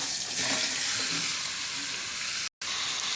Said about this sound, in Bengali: এবারে মাংসটা আমি দিয়ে দিচ্ছি।